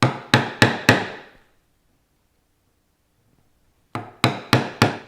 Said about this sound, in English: I'll just take a 3/8 inch chisel and I'll square up the top of this beam mortise